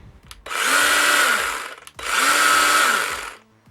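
Two loud running bursts from a Tekhmann i20 cordless garden saw, each spinning up softly, holding a steady high whine for over a second and winding down, separated by a brief gap.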